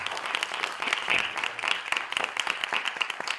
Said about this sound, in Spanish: Vamos a dar un fuerte aplauso, por favor.